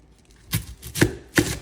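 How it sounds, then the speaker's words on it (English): A knife cuts through an onion on a board in three crisp, close chops spaced about half a second apart, with no voices. "Next we have our onion, and you remember we always cut from root to tip."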